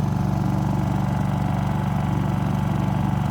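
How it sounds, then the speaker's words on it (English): A Honda 22i inverter generator runs at a steady, even drone with a low rumble, close and continuous throughout, with no voices. "a quick little update on this Honda 22i inverter generator"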